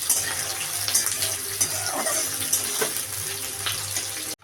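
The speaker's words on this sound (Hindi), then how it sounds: "तो अब हमारा यहाँ पर तेल गरम हो गया है। तो इसमें प्याज को डाल देते हैं" Onions dropped into hot oil for a home-style jackfruit and potato curry give a steady, close, hissing sizzle that stays loud and even throughout, cutting off abruptly at the end.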